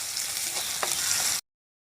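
Sliced shallots fry in hot coconut oil with a dense, steady sizzle and a faint stir, up close, before the sound cuts off abruptly.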